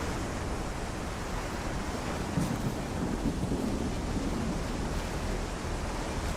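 Thunder from a lightning strike rumbles in the S.T.A.L.K.E.R. 2 video game, a low broad roll swelling briefly midway through steady wind-like noise, with no talk.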